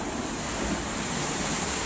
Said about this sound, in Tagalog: kalakas ng alon